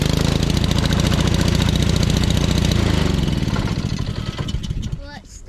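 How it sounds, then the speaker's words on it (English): Small petrol engine on a free pressure washer running loud and close with a steady, buzzing throb that holds, then falls away as it dies near the end. "But you see how easy that engine started?"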